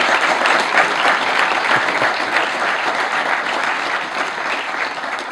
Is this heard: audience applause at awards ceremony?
yes